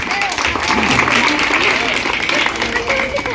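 An audience at a rural village election rally applauds loudly, a dense continuous clatter of many hands, with a voice carrying over it.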